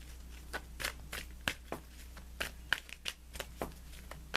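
Tarot cards are shuffled close up over a steady low hum, a run of quick papery riffles and slaps repeating roughly every half second, fairly quiet and with no voices.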